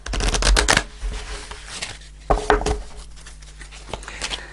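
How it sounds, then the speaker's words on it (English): A deck of tarot cards being shuffled up close, with a loud riffling burst at the start, quieter shuffling, then a second sharp riffle midway, amid soft handling sounds. "I'm going to pull a fairy card to finish off the reading"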